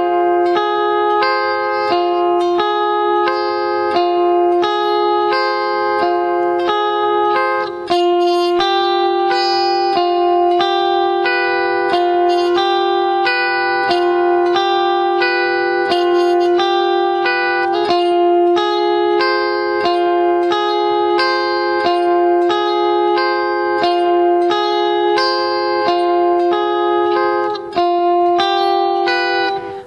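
Electric guitar strumming chords at a slow tempo, a steady up-down pattern of sustained, effects-laden chords that rings continuously and alone.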